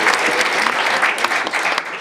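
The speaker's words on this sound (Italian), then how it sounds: "un applauso per Amani" Workshop audience applauding for Amani and her association, a loud, dense, even burst of many hands that holds steady for the whole moment.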